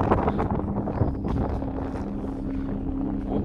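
Wind blows hard and steadily across the microphone at a sandstone rock wall in the Harz mountains of Germany, a loud, rough, buffeting roar that fills the whole moment without any voices.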